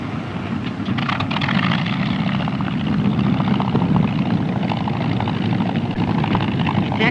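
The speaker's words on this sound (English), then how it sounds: "He's coming in, flying slowly and using his engine." Royal Navy seaplane flying slowly and low over the water on its engine before alighting and taxiing; a steady, close propeller-engine drone holds without a break.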